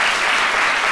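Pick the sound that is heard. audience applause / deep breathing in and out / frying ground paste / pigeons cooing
audience applause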